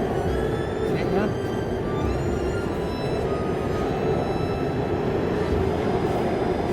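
A train pulling into a Paris metro station, with a steady loud rumble of wheels on rails and squealing metallic tones rising and shifting above it, heard up close throughout.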